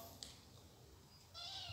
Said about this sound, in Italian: Fatti sentire come miagoli bene.